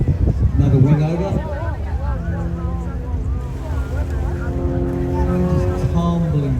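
An aerobatic aircraft at the International Ayr Show flies a wingover, its engine tone rising and falling in sweeping pitch glides, heard at a distance beneath a public-address commentator's voice and crowd murmur.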